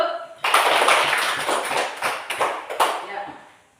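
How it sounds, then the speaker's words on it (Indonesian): A classroom group of students claps for another group after its presentation, a short burst of fairly close, uneven hand claps that starts suddenly and tapers away quickly. "Kita tepuk tangan dulu."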